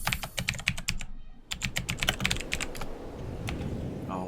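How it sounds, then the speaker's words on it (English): Rapid typing on a computer keyboard, a steady run of close, crisp key clicks with a short pause, then more scattered keystrokes trailing off over a low background hum. "Oh, I'm typing something different."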